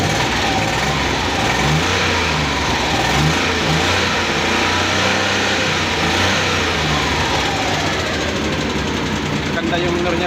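A freshly overhauled Suzuki F6a engine runs and revs steadily with a constant, loud mid-range drone and knocking texture, with voices briefly audible over it.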